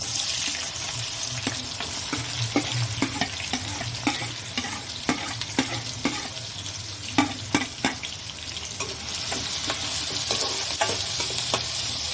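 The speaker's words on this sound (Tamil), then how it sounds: "வெந்தயம் கூடவே கொஞ்சம் கடுகு ஜீரகம் சேர்த்துடலாம் பொறிஞ்சு வரட்டும்" Fenugreek seeds, mustard seeds and cumin spluttering and frying in hot oil for a Tamil dried anchovy kulambu, a steady close sizzle broken by frequent sharp pops and crackles of bursting seeds, with some stirring clatter and no talk.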